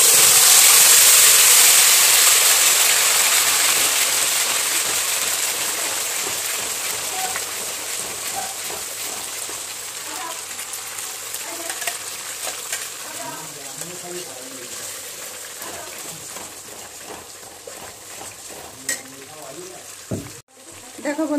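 Homemade spice paste for a paneer masala hits hot oil, giving a loud, steady hiss and sizzle that slowly eases and settles into softer frying crackle, up close in a home kitchen.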